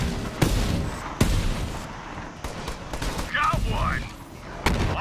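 Gunfire in the Borderlands 3 video game: several sharp shots crack out at irregular intervals over a dense, busy battle din, with voices talking through the fight.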